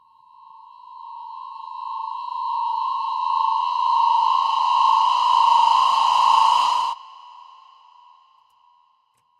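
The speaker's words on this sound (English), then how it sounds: "That's a pretty good Halloween sound, pretty creepy." Creepy synth Halloween sound effect with a synthy vocal layer: a steady, eerie tone that swells slowly, holds for several seconds, then cuts off abruptly, alone with no talk.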